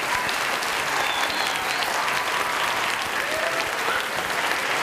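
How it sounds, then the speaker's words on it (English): Applause rises from a school crowd at a fitness room dedication, dense and continuous clapping holding at an even, fairly loud level throughout. "Another big round of applause for that."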